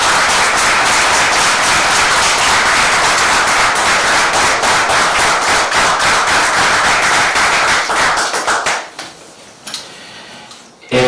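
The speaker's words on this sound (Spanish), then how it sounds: "Y un aplauso para nuestros presos encarcelados." Applause rings out at a Falange political broadcast, loud and sustained for about eight seconds before it tapers off into scattered claps and quiet.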